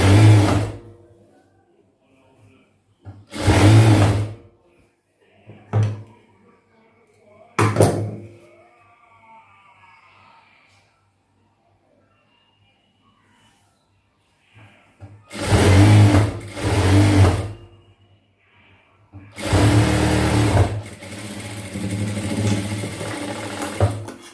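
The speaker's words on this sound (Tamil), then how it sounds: "இது எல்லாமே இழுக்காமல் தையல் போடுங்க, அப்போ தான் ஃபினிஷிங் நீட்டாக இருக்கும்." A sewing machine stitches a churidar in bursts of loud, rapid mechanical whirring, each run lasting a few seconds and separated by quiet pauses, close up and without talk.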